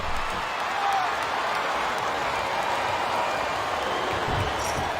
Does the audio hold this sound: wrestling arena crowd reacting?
yes